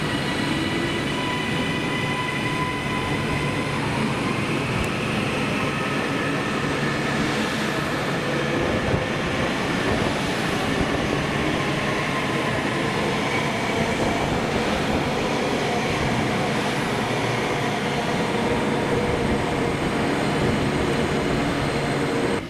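A Northern Class 331 electric train at Preston station rolls past with a steady loud rumble, electric whine and faint clickety-clack of wheels, sustained for over twenty seconds without speech.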